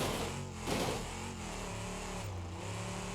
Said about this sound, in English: Because now we're essentially straight piped.